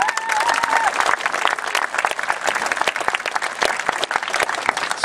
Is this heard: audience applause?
yes